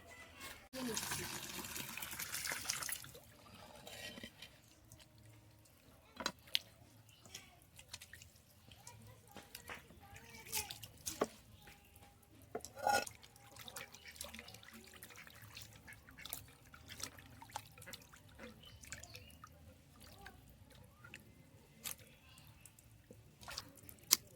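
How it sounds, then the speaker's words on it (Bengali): Katla (rohu) fish being rinsed under a running kitchen tap: a brief louder gush of water near the start, then quiet, intermittent trickling, dripping and soft squishy handling for the rest of the clip. "কাটা হয়ে গেছে, আর মাছটা আমি ধুয়ে নিয়ে আসছি।"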